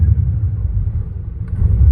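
A Pontiac GTO with an aggressive cam idles roughly, a loud, steady low rumble with a loping, uneven pulse and no throttle blips, heard close up with no talking.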